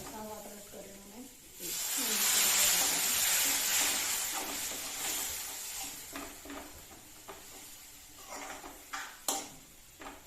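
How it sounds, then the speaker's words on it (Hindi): Spice masala with vegetable masala and a little water being fried in a pan: a loud hiss bursts in, then settles into a steady sizzle with scraping stirs and a few clanks near the end, close by, with some faint voice early on. "मसाले को अच्छे से भून लेंगे।"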